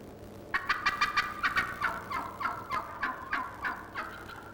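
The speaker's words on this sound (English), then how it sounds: "Now he's gobbling to lure the hens to him." A wild tom turkey gobbles in a rapid, rattling burst of throaty notes followed by a slower trailing series, loud and fairly close in open air.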